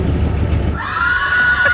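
After a burst of rumbling noise, a voice gives a high, drawn-out whinny imitating a horse neigh, wavering then fading.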